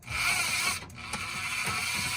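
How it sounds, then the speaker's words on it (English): A handheld Bauer electric drain cleaner snakes down a drain, giving a short burst of clicking, ratcheting mechanical whir, close and moderately quiet, with a brief dip midway. "Handheld electric drain cleaner"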